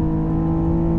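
A modified 2007 Acura TL Type S engine drones steadily under acceleration, a continuous close hum with strong tonal whine and no voices.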